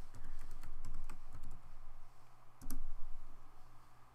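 Fingers type on a computer keyboard during a 3D modelling session, producing close, quick bursts of clicking keys, a short pause, then another brisk flurry of taps, with no talking.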